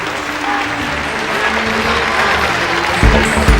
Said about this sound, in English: the crowd, as you can hear, thoroughly involved